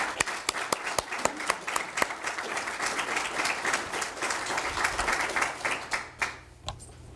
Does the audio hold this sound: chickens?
no